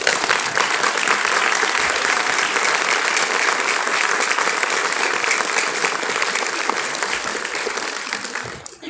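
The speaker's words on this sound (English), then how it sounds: "let's go ahead and give them a round of applause" An audience gives a sustained, loud round of applause for graduating nursing students at a graduation ceremony, dense clapping throughout before tapering off at the close.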